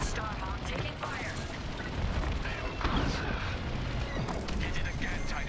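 Dense, continuous barrage of blasts, impacts and cannon-like fire around the capital ship Starhawk as it comes under attack in the Star Wars Squadrons space-combat video game, loud and rumbling throughout with a swell near the middle.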